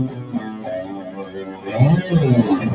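A G&L Strat electric guitar plays a short run of notes through effects, with a swirling, wavering tone and a fuller, louder strum near the end.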